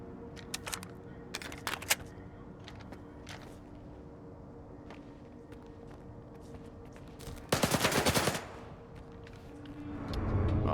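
Video game gunfire during a first-person shooter match, with scattered sharp shots early on, a loud dense burst of automatic fire midway, and steady game background noise throughout.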